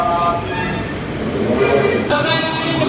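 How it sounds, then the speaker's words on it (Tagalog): Train moving through a station, a steady loud rumble of wheels and cars with a rising metallic squeal of wheels on rails near the end. "naiwanan tayo sa isang train hindi tayo nakahabol guys"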